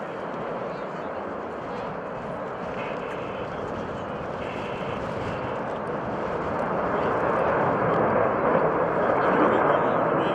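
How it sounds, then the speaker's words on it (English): A Rockwell B-1B Lancer bomber makes a combat takeoff at an airshow on an air force base. The broad jet roar builds steadily and grows louder as the aircraft rolls, while an announcer talks over it. "On the roll from the left, ladies and gentlemen, the B1B."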